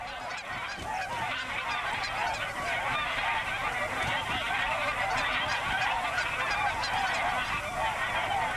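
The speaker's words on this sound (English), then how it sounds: "The geese that flew south last year are back." A flock of geese back from their southern migration honks continuously, many overlapping calls at moderate distance forming a busy, chattering chorus with no speech.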